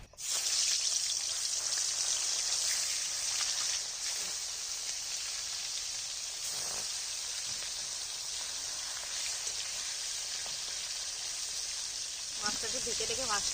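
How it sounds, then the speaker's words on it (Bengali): Fish frying in hot rice bran oil in a wok crackles and hisses in a dense, continuous spatter close by, steady from start to finish with a brief change near the end. "কড়াইতে দিয়ে দিচ্ছি তেল এটা হচ্ছে রাইস ব্র্যান্ড অয়েল না মানে চালের তুষের থেকে এই তেলটা হয় সেই তেলটা তেলটা গরম হয়ে গেছে এবারে মাছগুলো ভেজে নেবো"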